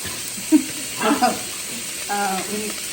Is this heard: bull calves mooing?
no